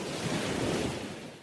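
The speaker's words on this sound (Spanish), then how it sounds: "miras las olas que vienen" Ocean waves wash steadily onto a beach, a dense, constant roar of surf without breaks, close and fairly loud throughout.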